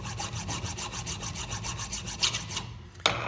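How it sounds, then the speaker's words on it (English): A metal file rasps across a die casting mould pattern in steady, evenly spaced strokes, close and continuous, ending with a sharper scrape. "And I'm going to file across there"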